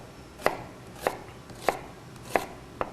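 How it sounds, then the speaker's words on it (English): A chef's knife slices through an onion on a cutting board, five crisp, evenly spaced cuts about half a second apart, each a sharp close thunk against the board. "keeping the knife pointed in towards the center as you're slicing the onion"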